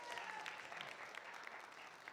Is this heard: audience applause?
yes